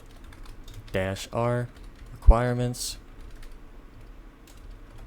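A terminal command typed on a computer keyboard, a few scattered soft key taps under a man's speech, close and quiet.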